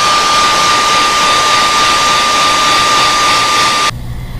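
Heat gun blowing steadily while heat-setting paint on a fishing lure, a loud continuous airy roar held for about four seconds before cutting to a softer hum.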